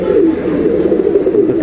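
A three-year-old pigeon coos in a steady, low, continuous rolling murmur, loud and close, with no voices.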